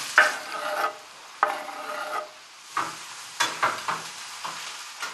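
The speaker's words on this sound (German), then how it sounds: "In der Zwischenzeit schneide ich die Kartoffeln auf und diese separat in der Pfanne rösten." Potato pieces roast in a hot pan, each stir bringing a scraping, sizzling burst that fades back to a quiet fry, about eight bursts in five seconds.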